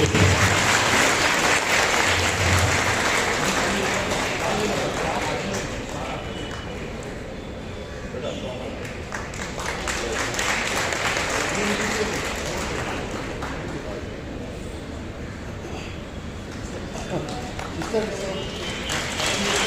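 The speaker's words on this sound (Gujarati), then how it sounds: "તાળીઓનો ગળગડાટ એકવાર જોરદાર તાળીઓ" A crowd at a school Republic Day celebration claps loudly and continuously, a thick sustained roar of applause that dips slightly midway before building again, with voices mixed into the noise.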